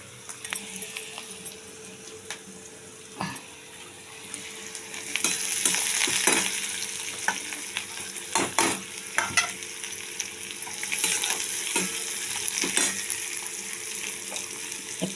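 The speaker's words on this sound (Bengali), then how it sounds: "দেখুন পেঁয়াজটা প্রায় ভাজা হয়ে গেছে।" Onions frying in oil in a pan: a steady close sizzle with repeated stirring scrapes and clacks over about fifteen seconds, louder bursts midway, no talking.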